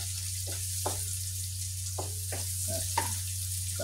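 Onion and garlic sautéing in a pan, a steady broadband sizzle with a low hum beneath and several short stirring scrapes and clinks of a utensil against the pan.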